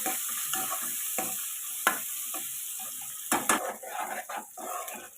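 Coriander and spices frying in oil for egg rice, a hissing sizzle under frequent spatula scrapes and clinks against the pan, growing busier toward the end, no voices.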